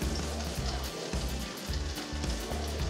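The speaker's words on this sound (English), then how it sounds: "Listen to this sizzle." A turkey and cheese quesadilla with onion sizzles in a hot pan: a steady, dense crackle of frying that carries on without a break, fairly close and with no talking.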